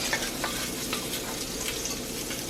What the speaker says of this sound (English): I guess we're frying a couple pieces in.